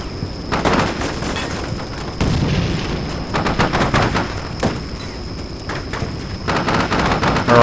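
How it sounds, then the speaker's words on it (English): Gunfire in the war game Combat Mission Shock Force, with infantry and a tank engaging: repeated bursts of rapid automatic fire crackling in clusters, loud and close, with short gaps between volleys. "Our army, our infantry picked up some people shooting at him, and the tank has gotten engaged in it"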